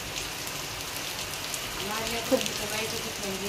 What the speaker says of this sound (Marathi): हे कंटिन्यू झालं 2 तास झालं असा पाऊस चालू आहे